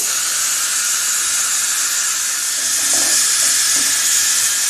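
Water added to a hot pan while cooking an egg dish, giving a continuous loud steaming hiss and sizzle that holds steady throughout, close by, with no talking.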